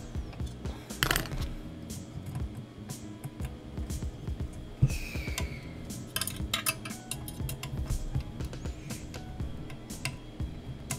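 Screws driven by hand into parts of a Hachette weekly Great Mazinger model kit during assembly of the right shin, making small close clicks, ticks and light plastic-and-metal scrapes in irregular bursts with no speech.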